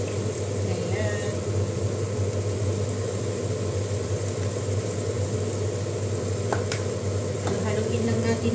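Minced beef fries with nutmeg in a pan while it is stirred. A steady, dense sizzle runs throughout with a low constant hum underneath and a few faint utensil clinks.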